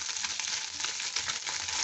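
Small kachki fish fry in hot oil in a pan, giving a steady, close, dense crackling sizzle throughout with no voices.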